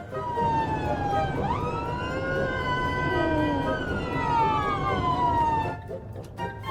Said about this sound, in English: Fed up of hearing sirens now.